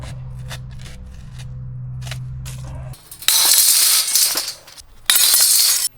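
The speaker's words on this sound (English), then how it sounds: "So all I've got to do now is cut this bit of cardboard." A piece of cardboard being cut with scissors, preceded by a low steady hum, then two loud rough cutting bursts close by with a short pause between them.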